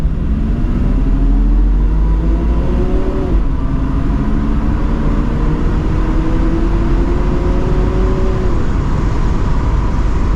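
A 1970 Mercedes-Benz 280SE 3.5 Cabriolet accelerates hard from first gear down a wet on-ramp, its engine note climbing steadily through the gears with a brief dip at a shift, loud and close under steady road and wind noise.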